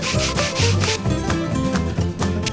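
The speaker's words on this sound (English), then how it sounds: "for joints like these, very easy, just go inside and sand." Hand sanding along the joints of a wooden table during refurbishing makes close, rhythmic scratchy rubbing strokes, repeated back and forth in quick bursts with no talking.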